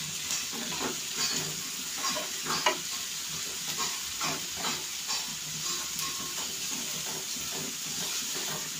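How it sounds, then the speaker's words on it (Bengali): Onions stirred and fried in a pan for a Bangladeshi beef kabab recipe, sprinkled with salt: a steady broadband sizzle runs throughout, broken by repeated scraping strokes of a spatula, close and moderately loud, with no talk. "পেঁয়াজ বেরোসা করার জন্য পেঁয়াজটা আগে অনবরত মাখতে হবে।"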